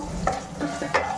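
Mango pulihora rice is stirred in a pan, giving a close, scraping, rustling sound in a few quick strokes over a soft background sizzle.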